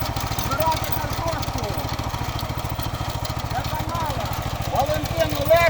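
A small engine of a mini tractor built from a walk-behind tractor, digging potatoes, chugs steadily at a low idle-like rhythm, close by, with faint background noises over the top.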